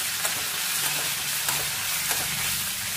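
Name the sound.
tomato, garlic and chillies frying in a pan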